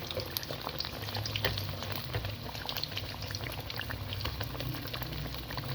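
Chapati kachori made from leftover flatbread fry steadily in hot oil, a continuous dense sizzle with crackling pops that holds at an even level throughout, no voices.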